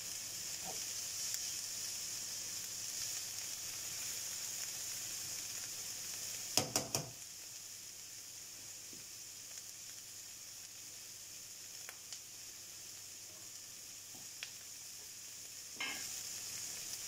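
Onions frying gently over low heat in a pan for beef nems give a steady, soft sizzle that hisses on without pause, broken by a brief cluster of utensil clinks near the middle.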